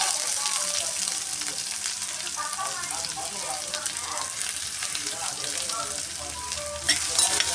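Chopped medium onion sizzles in hot oil with mustard seeds and garlic, a dense, steady crackling hiss throughout that stays loud and close, with a brief knock near the end.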